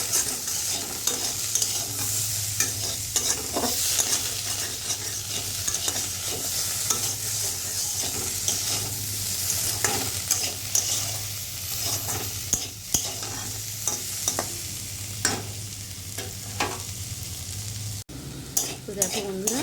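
Spice masala with salt and turmeric frying and being stirred for a vegetarian yam curry, a steady sizzle with repeated scraping strokes of the spoon close up, no talking.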